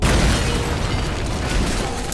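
Explosions from a video game in development, a dense continuous wash of booming blasts and rumbling bursts that stays loud throughout without pause.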